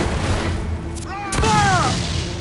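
A single heavy ship's cannon boom in the video game Assassin's Creed IV: Black Flag bursts out amid background noise, followed by a brief rising tonal sound as it fades.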